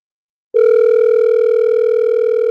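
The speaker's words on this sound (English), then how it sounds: "I hope he answers his phone." A phone line tone while calling someone in Jamaica: a single steady electronic tone starts abruptly after a moment of silence and holds loud and unbroken to the end, with no talking.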